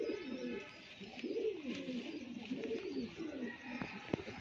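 Several old pigeons coo in repeated rolling phrases, close and steady, with a faint background hum and no talking.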